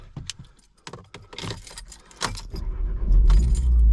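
Keys jangle and doors clatter inside a VW Golf R MK7 on a snowy road, then the engine's low rumble swells and holds steady as the car pulls away.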